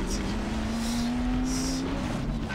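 A car accelerates in Half-Life 2 Episode Two, its engine droning with a rising tone that holds steady for a couple of seconds, close and continuous, with bursts of hiss and game noise around it.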